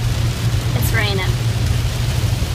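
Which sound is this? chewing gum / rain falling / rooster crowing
rain falling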